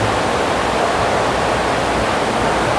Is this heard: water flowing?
yes